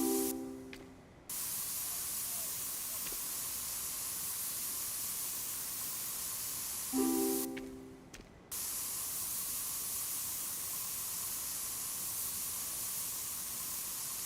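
Spray painting a vehicle panel in the Spray Paint Simulator video game: a steady, continuous hiss of spraying that runs almost throughout, broken by two short tonal interface blips, with no talking.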